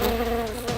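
A housefly buzzes steadily and close by in an office, a continuous droning hum that holds at an even level for under a second with no voices over it.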